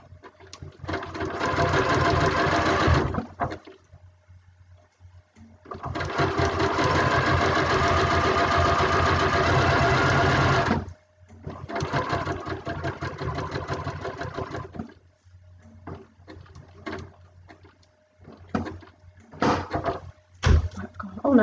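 A sewing machine stitches a fabric pincushion in long steady runs of rapid, close mechanical whirring, broken by pauses and a few slow, halting stitches near the end.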